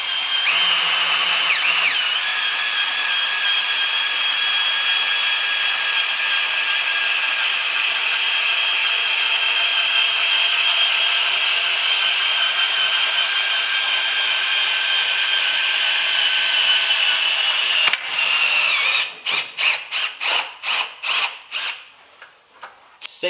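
A Ryobi cordless drill drives a MoJack ZR 350 jack down with a steady, high whine, then stops and restarts in a quick run of short bursts near the end; loud and close.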